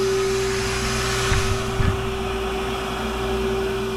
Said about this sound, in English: Now it's bringing suction to all these holes.